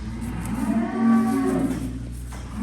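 A bull bellows loudly and at length for a cow, one deep, drawn-out moo that swells in the middle and trails off, close and clear with no talk.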